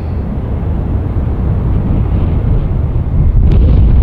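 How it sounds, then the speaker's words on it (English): Wind buffets the microphone outdoors at a plane-spotting spot near Tampa International Airport, producing a loud, steady low rumble that continues for the whole stretch with no talking. "Wind feels good though."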